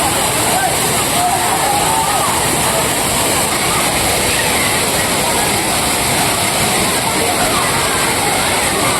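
Thirparappu waterfall in Kanyakumari district pours in a loud, dense, continuous roar while tourists bathe beneath it, the heavy rushing wash filling the whole scene without pause.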